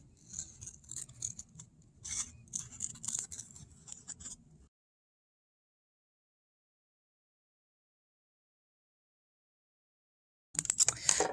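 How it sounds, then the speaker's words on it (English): Scissors snip and rasp through paper along a drawn line, a close, quiet run of small cuts for a few seconds, then silence, then another brief burst of cutting. "we're just cutting this into two pieces along the line I drew"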